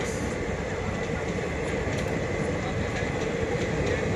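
The Sethu Express rolls through the night with a steady, loud rumble of wheels and carriages, a continuous rail roar and no break for the full few seconds.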